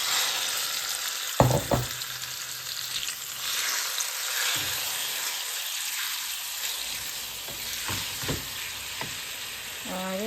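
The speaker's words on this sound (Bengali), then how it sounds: "সো এখন আমি চিকেনটা দিলাম থোড়া ফ্রাই" Chicken pieces with turmeric frying in hot oil in a pan, a steady close sizzle throughout with a few clinks and stirring scrapes of a utensil.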